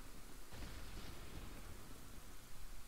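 A thunderstorm in the video game Zelda: Ocarina of Time gives a steady hiss of rain over a low rolling rumble of thunder, fairly faint and unbroken.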